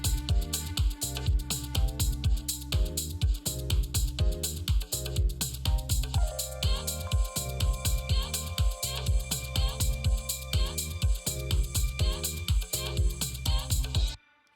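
Classic house loop built with the Maschine expansion Timeless Glow, with punchy four-on-the-floor kicks, busy hats and sustained chord stabs repeating steadily and loud, with no voices over it.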